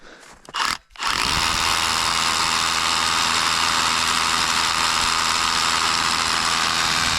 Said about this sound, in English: So first thing we're going to do is drill a hole for this guy.